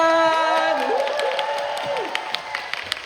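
A concert crowd at a 2025 fan meeting applauds and cheers, with a voice or held sung note on top that fades as the cheering trails off.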